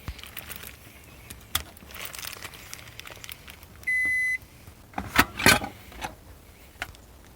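A pressure cooker gives a single short electronic beep, clean and tonal, set among soft kitchen handling noises, rustles and a few louder knocks and clatters nearby.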